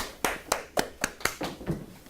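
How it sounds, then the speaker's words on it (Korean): A teacher claps alone at the end of a math lesson, eight sharp, evenly spaced hand claps in a steady rhythm, close and fairly quiet. "나 혼자 박수 칠게요. 자, 박수."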